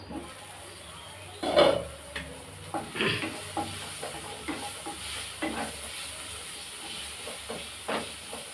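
Tomatoes sautéing in a pan over low heat, with a soft steady sizzle and occasional stirring scrapes and clinks; one louder clatter early on, then quieter gentle stirring throughout.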